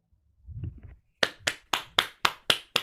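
Online audience members clapping, about seven sharp, evenly spaced claps close to the microphone, coming after a brief stretch of low murmur.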